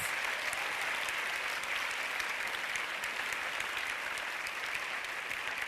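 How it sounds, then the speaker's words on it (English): A big crowd at the LUX Audience Award event applauds a film's co-producers and co-composer, a thick, continuous roar of clapping at constant loudness throughout. "Big round of applause."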